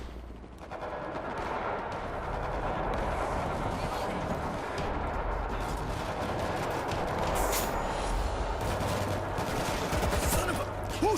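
Dense automatic gunfire in the zombie shooter World War Z, sustained rapid bursts and overlapping shots crackling continuously at close range, with brief shouted voices mixed in.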